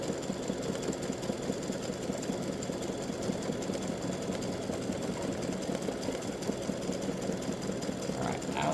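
An embroidery machine rapidly stitches the loop of a free-standing lace bat ornament, a steady mechanical chatter of needle strokes running continuously and evenly throughout.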